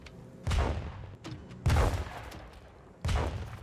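Three heavy grenade-launcher blasts in Star Citizen, each a loud booming explosion with a rumbling tail, spaced about a second apart as rounds strike a cargo box, with a faint smaller thump between them.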